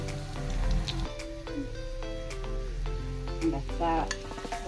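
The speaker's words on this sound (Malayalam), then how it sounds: "വെളിച്ചെണ്ണ നല്ലോണം ചൂടായിട്ട് വേണം നമുക്ക് മീൻ പൊരിക്കാനിടാൻ കേട്ടോ" Sardines frying in hot coconut oil in a pan, a soft continuous sizzle under faint clinks and background music, with a voice speaking over it.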